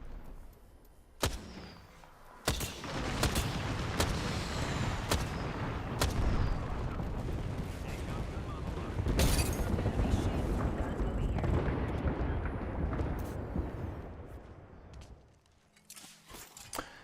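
An artillery barrage in the Apex Legends battle royale game lands as a run of sharp booming blasts with rumbling between them, fading near the end, under a voice talking.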